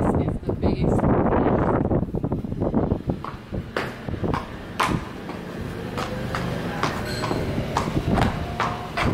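Horse hooves clip-clop in irregular sharp knocks, fairly close and steady, over a rough, windy outdoor background.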